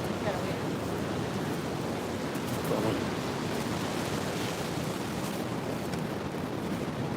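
Ocean surf at Mission Beach rolls in as a continuous broadband wash under wind, steady and fairly loud, with no distinct break standing out.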